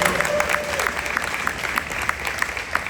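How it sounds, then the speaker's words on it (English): At a ring ceremony, a crowd applauds a girls volleyball team with steady clapping from many hands, and a brief voice is heard at the start. "Give a round of applause."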